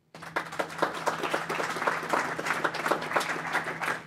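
Steady applause from an audience at a startup showcase, sustained clapping from a crowd welcoming a speaker, fairly close and continuous for a few seconds with no talking.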